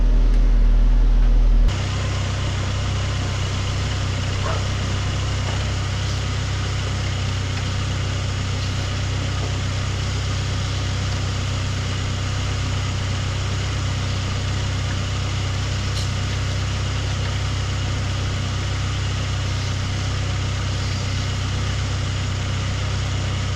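A Saab 9-3 with coolant problems idles steadily after an accident, a constant low engine hum and whine that holds unchanged for over twenty seconds, with no one speaking.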